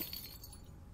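Virtual glass bucket shattering in the Rick and Morty VR video game, a brief faint crash and tinkle lasting about a second with no talk.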